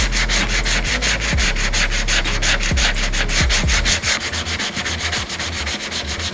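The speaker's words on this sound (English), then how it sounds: "I'm gonna sand this out using that same block with a piece of 80 grit." Filler on a large dented fender is block-sanded with 80 grit sandpaper in steady, close back-and-forth strokes, a continuous rasping scrape with regular rhythmic pulses, loud throughout with no talk.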